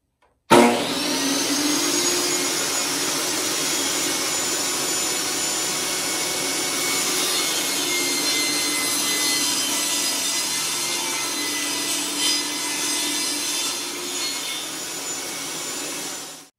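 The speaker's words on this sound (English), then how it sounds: "you're going to rip these to two individual 1 5/8 inch planks" A saw rips wooden boards into 1 5/8 inch planks while building a Layens swarm beehive, a loud continuous broadband whine that holds steady for the whole cut before stopping, with no talking.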